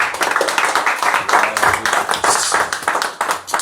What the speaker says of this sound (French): Laissez-moi applaudir les amis de Château Bénarès